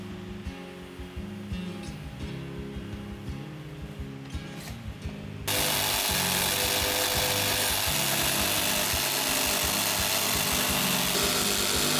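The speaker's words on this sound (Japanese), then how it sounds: "このジグソーって便利ですよね。" A jigsaw cuts a circle through two wall boards covered in cloth, first with a softer rhythmic buzz and then a sudden louder, harsher rasping whine that holds steady to the end.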